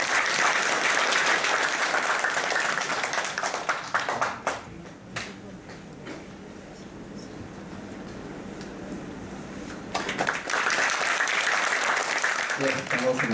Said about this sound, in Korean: 큰 박수로 환영하시기 바랍니다.